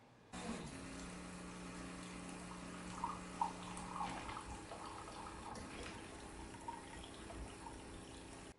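Wittenborg 9100 three-coffee machine running its full wash and rinse cycle: a steady, quiet pump hum and water flow with a brief low tone early on and faint gurgles, continuous and close.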